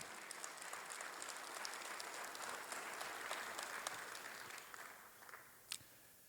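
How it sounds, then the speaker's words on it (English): A crowd at a political gathering gives a round of applause, with faint, steady clapping that fades slightly toward the end. "Let's give them a round of applause."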